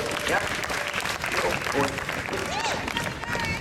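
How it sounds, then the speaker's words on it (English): A crowd at a Sydney street juggling and comedy show claps for a volunteer, with dense, steady applause sustained throughout and a voice speaking briefly over it. "Can everyone really just give her a proper clap and make her feel good"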